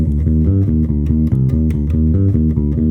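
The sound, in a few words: bass guitar playing bar 4 of a Bach prelude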